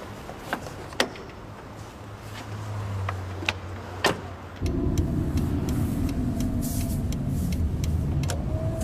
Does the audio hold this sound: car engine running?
yes